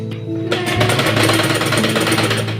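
Electric sewing machine stitching fabric for a baby girl's dress, starting after a brief pause into a rapid, loud, close mechanical rattle that runs steadily to the end.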